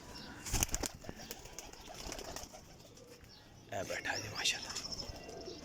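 Prized high-flying pigeons at a breeder's loft give soft coos and bursts of flapping wings, with a loud flutter early on and more wingbeats near the end, under a voice talking throughout.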